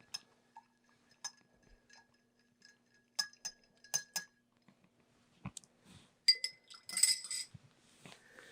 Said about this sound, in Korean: 바스푼을 이용하여 잘 저어주도록 하겠습니다